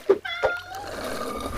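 A cat gives a couple of short, fairly close meows in quick succession, with a faint background hum and no speech.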